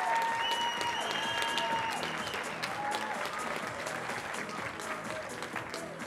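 Sustained crowd applause and cheering for both fighters after a kickboxing title eliminator bout fills the space, loud and steady throughout, with scattered whistles rising above the clapping.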